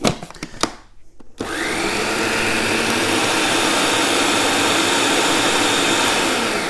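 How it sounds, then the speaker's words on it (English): A kitchen blender whirs loud and steady as it blends breadcrumbs, parsley and harissa spice for a spicy chicken wrap, starting after a few short clicks and knocks and running without a break to the end. "I'm going to blend this for a moment"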